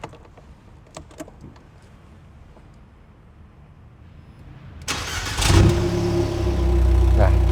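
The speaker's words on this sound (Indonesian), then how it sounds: "Sekarang saya akan nyalakan mesinnya untuk kita dengar suara knalpotnya." An Abarth petrol engine with a Monza sport exhaust cranks after a few seconds of quiet interior rustling, catches with a loud bark, then settles into a deep, rumbling idle, close by.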